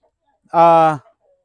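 A single short, clear call from a hen, a crossbreed of a heritage chicken and an oriental chicken, close by and loud, lasting about half a second against near silence.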